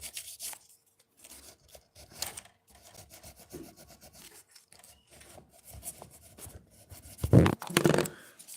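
Sandpaper rubbing a Black Tusq XL replacement nut for an 8-string guitar, close and fairly quiet, with short scraping strokes in irregular bursts that grow louder near the end.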